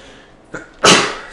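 A person sneezes sharply and loudly at close range, preceded by a short quick inhale, with quiet game-session background around it.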